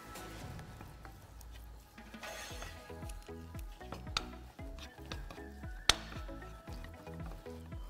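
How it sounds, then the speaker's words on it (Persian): Mashed potato being stirred into a tuna and soy mixture in a pan, with soft rhythmic scraping and pattering strokes, faint sizzle underneath and a couple of sharper utensil knocks. "میایم سیب زمینی پوره شدهمون هم بهش اضافه میکنیم. و هم میزنیم تا مواد به خورد هم بره."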